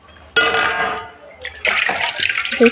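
Water is poured into a pot of Bengali egg curry: a broad steady gush starting abruptly, easing off after a second, then renewed splashy pouring with small bubbling sounds, close and fairly loud.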